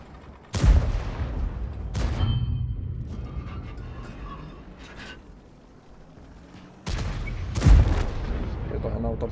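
Tank cannon firing armour-piercing shells in World of Tanks, two loud close booms several seconds apart, each followed by a rumbling decay and quieter battle noise in between.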